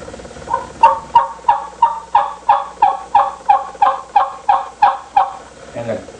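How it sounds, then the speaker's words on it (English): A tube turkey call sounds a loud, close run of about thirteen evenly spaced yelps in a steady rhythm, with no talking. "To yelp, I just say, "Cook, cook, cook, cook.""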